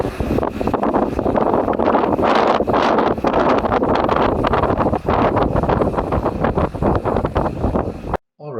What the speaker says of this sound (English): let's get started by having a look inside the wind tunnel.